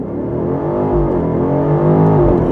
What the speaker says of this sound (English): Let me do a launch control for you here.